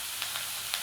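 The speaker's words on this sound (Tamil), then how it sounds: "இன்னும் ஒரு 5 மினிட்ஸ் இந்த மாதிரி வதக்கினாலே போகிறோம்" Vegetables sizzle steadily as they sauté in a hot pan, a constant frying hiss with a few faint stirring clicks.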